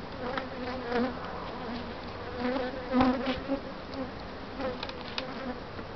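Bees buzz steadily in a dense, close hum during a beehive inspection, with occasional louder swells as individual bees pass near.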